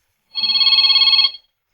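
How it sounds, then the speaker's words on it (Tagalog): A cellphone rings in a quiet room at home, one steady electronic ringtone burst of about a second with a fast warble, close and clear, with no talking over it. "Si cellphone ko. Agri-ring."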